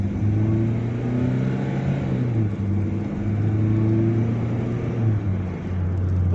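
A Maxus G10 van accelerates in a steady, loud mid-pitched engine drone with rising tonal whine, continuous throughout with no talking.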